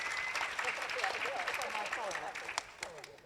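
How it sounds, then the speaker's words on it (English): Applause rises from a conference audience in Chicago, a steady wash of many hands clapping at moderate distance, with cheering voices and scattered talk mixed into the crowd noise. "give them a round of applause"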